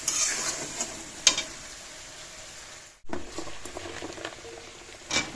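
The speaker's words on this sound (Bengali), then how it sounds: "এবার সিম দিয়ে আলু দিয়ে মশলাতে না একটু ভালো করে কষিয়ে নেবো" Flat beans and fried potatoes stir-fry in spice masala in a pan, with soft sizzling, a brief break, and repeated scraping stirs and clicks close by.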